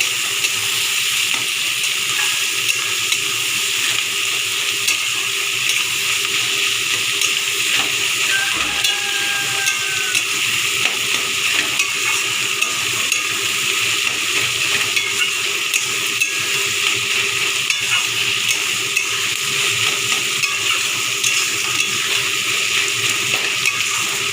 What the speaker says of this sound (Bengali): পেঁয়াজটা যতক্ষণ না লাল লাল করে আমি ভেজে নিচ্ছি